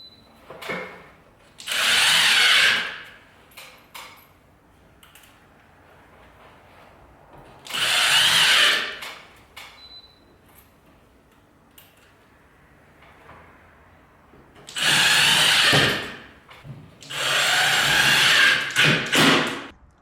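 A power drill drives screws into ceiling drywall during a water-damage repair, in four loud bursts of whirring, two short and two longer, with quiet pauses between them.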